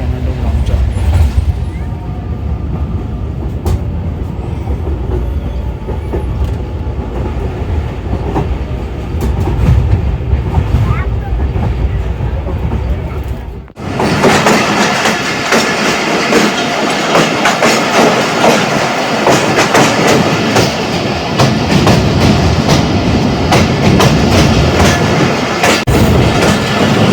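Khyber Mail passenger train rolling along the rails from Rawalpindi toward Multan, a loud continuous rumble and rattle heard from inside the carriage, growing noticeably louder and harsher halfway through.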